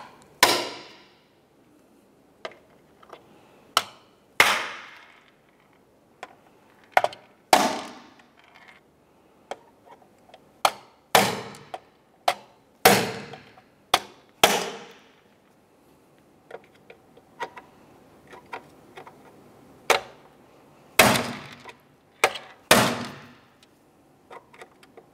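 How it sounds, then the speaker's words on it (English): A hammer drives a punch through the rivets of a plastic glove box door on a 2000-2006 Chevrolet Tahoe, giving sharp, close metallic strikes in irregular bursts separated by brief quiet gaps. "We'll use a hammer and punch and drive these through."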